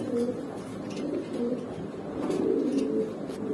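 Racing pigeons coo steadily and fairly close, a soft continuous murmur of overlapping low calls that swells slightly toward the end, with no one talking.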